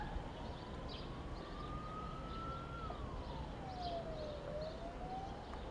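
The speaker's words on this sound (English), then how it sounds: "Sirens are still going like mad." A siren wails slowly up and down at a large mill fire, somewhat distant over a low rumble of background noise.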